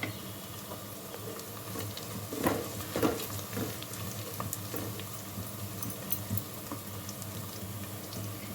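A quarter spoon of cumin seeds sizzles in hot oil for a gongura dry prawn curry, a steady faint crackling hiss with a few sharper pops.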